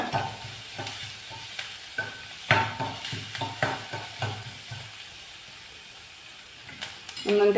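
Chopped onion fries in oil in a pan for Davangere benne dosa, a soft steady sizzle broken by repeated scraping stirs, close up, with a louder clatter at the end.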